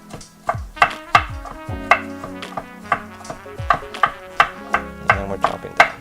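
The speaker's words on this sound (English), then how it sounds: "And we're chopping down." Large carrots laid on their sides are chopped downward with a knife on a cutting board, giving a steady series of sharp, close, percussive thuds about twice a second, with no talk over them.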